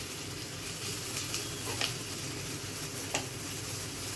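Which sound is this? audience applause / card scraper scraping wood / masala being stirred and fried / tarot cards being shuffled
masala being stirred and fried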